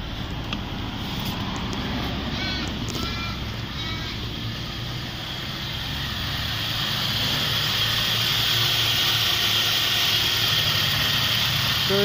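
A BMW 320i E90 sedan with a 2.0 litre N46 engine idles steadily at an auto wreckers yard, a close, even mechanical hum with faint ticking that swells slightly louder toward the end.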